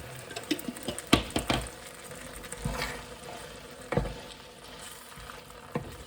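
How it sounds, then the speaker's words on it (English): Jarred curry sauce stirred in a pot sizzles quietly, with irregular scrapes and knocks of the spoon against the pot rising and falling over a soft hiss. "Stir that all around."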